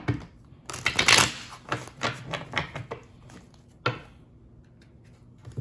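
Tarot cards shuffled by hand at close range, a burst of quick riffling and soft slapping taps that settles into scattered lighter clicks, with no talking.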